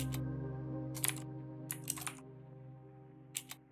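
Mechanical keyboard click sounds from Mechvibes software, a handful of sharp keystrokes in irregular pairs and clusters, heard over a steady droning hum with no voices.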